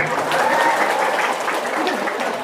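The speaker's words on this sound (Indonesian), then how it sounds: "Tepuk tangan dulu." Steady audience applause fills the room during an Indonesian comedy talk, a dense even wash of many hands clapping at once, with a faint voice or cheer rising briefly above it.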